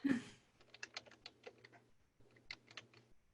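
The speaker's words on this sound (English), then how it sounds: "Type in 9651 Brookline." An address is typed on a computer keyboard in two short bursts of crisp, close key clicks separated by a brief pause, with a faint low hum underneath.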